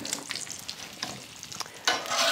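Bacon sizzles on an outdoor flat top griddle, a close crackling hiss with small pops that grows louder and denser near the end.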